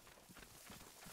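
Horse hooves clip-clop in Assassin's Creed Origins as a quick run of soft, faint hoofbeats over about a second, with no voices.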